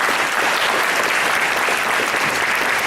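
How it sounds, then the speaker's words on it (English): Dense, steady applause from an audience at an economic summit, a full room of hands clapping loudly and evenly throughout without letting up. "a round of applause."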